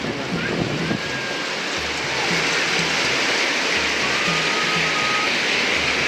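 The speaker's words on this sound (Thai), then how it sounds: "ฝนตกกลางวันแสกๆเลยพี่น้อง" Steady rain pours over a countryside setting, a dense continuous hiss filling the scene, with faint low rumbles and soft background activity beneath it.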